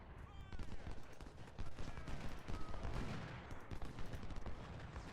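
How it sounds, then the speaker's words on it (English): Crackling volleys of musket fire from Civil War troops at the First Battle of Bull Run in Ultimate General: Civil War, rapid overlapping shots rattling continuously at a distance, with someone talking over them. "Again, we're just shooting"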